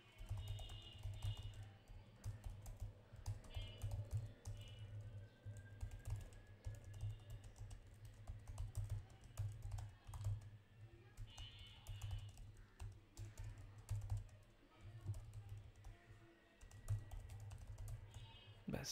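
Steady, fast typing on a computer keyboard runs throughout, with dense rhythmic key clatter close to the mic and a low constant background hum.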